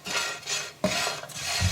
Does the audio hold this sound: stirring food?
yes